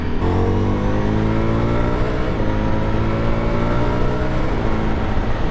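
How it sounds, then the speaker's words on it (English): A loud, steady Ducati motorcycle exhaust roar with a rising rev, continuous throughout, close by in cold weather around 6 degrees, with no voices. "This with the exhaust sounds so good."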